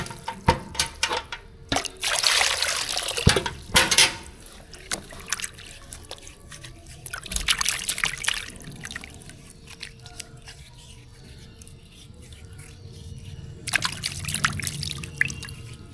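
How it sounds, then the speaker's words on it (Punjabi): Carrots being washed outdoors in a bucket of water, with intermittent close splashing and trickling bursts separated by quieter gaps, and no talk. "ਖੁੱਲੇ ਪਾਣੀ 'ਚ ਧੋਵਾਂਗੇ"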